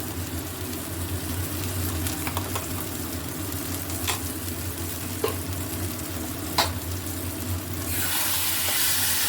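Spice paste with tomato puree fries in a pan for a winter vegetable dish, a steady close sizzle marked by a few sharp stirring clicks, the hiss swelling louder near the end, with no talking.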